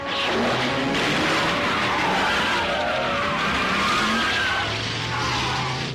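Tires skid and squeal as a vehicle brakes hard to a stop during an animated police chase, with a steady, loud, broad screech lasting throughout and an engine rumbling underneath.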